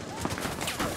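Gunfire in a first-person shooter game, a dense burst of shots with sharp peaks over steady noise through the whole second, mixed under game sound.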